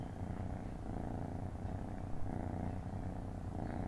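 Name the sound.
small black cat purring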